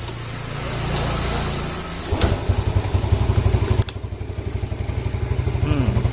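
A motorcycle, being tested for a dim headlight, cranks on its electric starter and catches, then settles into a steady, close, rhythmic idle with an even puttering beat.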